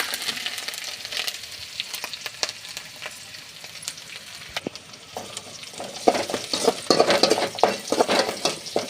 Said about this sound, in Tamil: எண்ணெய் வந்து நல்லா நிறைய காஞ்சிருச்சு. கடுகு போட்டுக்கலாம். இது மூணுமே ஒட்டுக்க கொட்டிக்கலாம்.